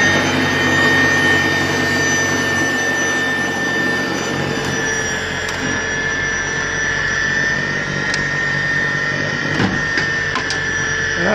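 Ego 56V battery-powered snowblower with its auger engaged at medium speed, a steady high electric whine with a broad churning roar underneath and a few sharp clicks of debris, continuous and close, with no talking.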